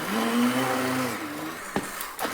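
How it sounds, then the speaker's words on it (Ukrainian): A blender whirs loudly grinding soft butter and cheese cake filling, its motor pitch wavering and then winding down, followed by a couple of sharp clicks. "Подрібніть усе це блендером."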